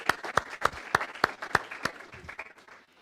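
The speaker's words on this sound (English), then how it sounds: "Let's give her another round of applause." Congregation applause during a Sunday church service, a short burst of sharp, regularly spaced claps that thins out and fades over three seconds.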